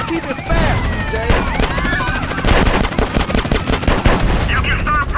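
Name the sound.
gunfire in video game GTA San Andreas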